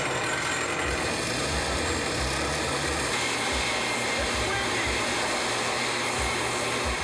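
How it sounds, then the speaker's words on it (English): Five leaf blowers run together as a makeshift supercharger for a 1978 Chevrolet Monza Spider, making a loud, constant, close-up whooshing whine with a steady droning hum beneath and no break throughout. "All our 5 leaf blowers work."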